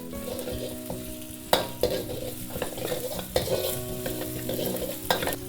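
Ginger and green chillies stir-fry in hot oil for restaurant-style veg fried rice, a steady sizzle punctuated by sharp metal clanks and scrapes of a spatula against the wok.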